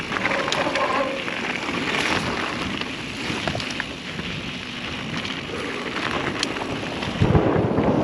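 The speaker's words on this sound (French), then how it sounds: "il m'a fait trop peur cet orage" Thunder rolls through a thunderstorm on a mountain ski descent, a long low rumble over steady rain with a heavier burst near the end and no speech.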